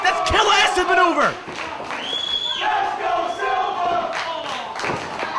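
Crowd at an indoor wrestling show in Union City cheering and chanting loudly, with a commentator talking over the noise.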